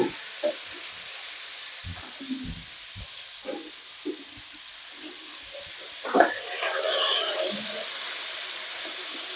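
Pumpkin pieces sautéing in hot oil for a buttermilk curry, crackling softly with scattered stirring clicks, then swelling into a brief louder sizzle near the end.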